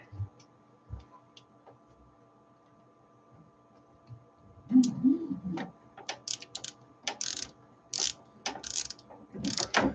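Small screws being backed out of a 3D printer, with faint clicks at first, then a run of sharp, close ratcheting tick bursts from the screwdriver in the second half.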